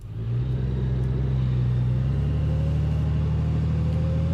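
A Honda Goldwing motorcycle engine running steadily while riding out to a parking lot, a loud, even low rumble with a slight pitch shift partway through.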